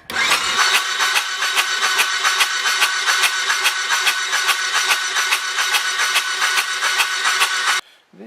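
A Suzuki VS1400 Intruder motorcycle's starter cranks the engine continuously and loudly for several seconds in a rapid, rhythmic churn without catching, then cuts off abruptly.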